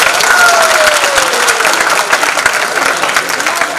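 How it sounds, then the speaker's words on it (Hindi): A theatre festival audience claps loudly and continuously, a dense sustained burst of applause with a few faint voices mixed in. "इसलिए एक बार जोरदार तालियां"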